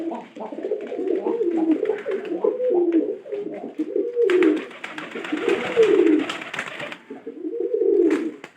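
Pigeons coo close by in repeated soft, throaty rolling phrases, with a fluttering, rustling burst in the middle and another coo at the end.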